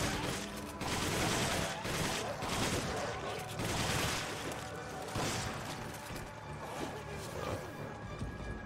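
Shotgun blasts and scattered gunfire in the video game Resident Evil 5, a run of sharp, crashing bursts mixed with game noise, moderately faint under the action.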